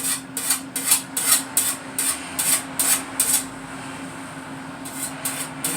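A hand file rasps across a burr on a wood-fired pizza truck's pizza peel in a series of about a dozen sharp, close strokes, in two bursts separated by a short pause.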